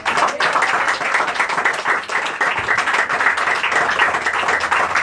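A church congregation claps loudly and steadily for the Lord during a Spanish-language sermon, the dense applause sustained evenly for the whole stretch with no speech over it.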